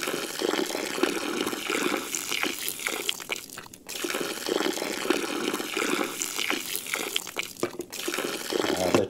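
Milk is poured onto kefir grains in a continuous splashing stream of liquid, close and steady with small fluctuations and a couple of brief pauses in the flow.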